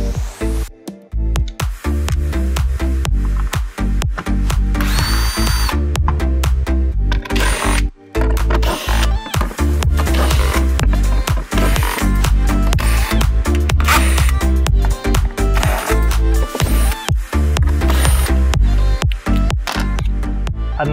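A power driver removes 10mm bolts while working on a Tesla Model S 12V battery installation, running in repeated loud bursts with short stops between them, close up throughout.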